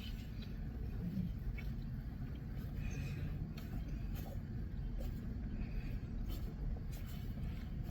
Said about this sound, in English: I was just watching cars go by.